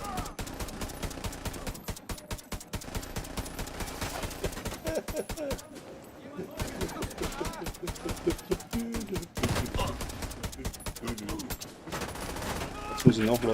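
Rapid bursts of weapon fire from the video game The Division 2 crackle almost nonstop, dense and loud, with brief lulls between volleys and voices talking over the shooting.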